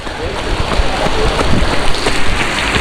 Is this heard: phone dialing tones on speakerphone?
no